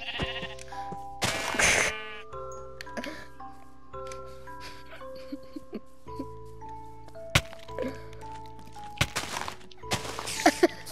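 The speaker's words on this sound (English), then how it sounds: "we have Ba Ba Brown Sheep" A brown sheep bleats in Minecraft, a clear single bleat near the start over a backdrop of soft tonal game notes and occasional thumps.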